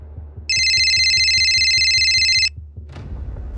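A telephone rings loudly with a rapid electronic trill for about two seconds, then stops, followed by a brief rustle and a low thump.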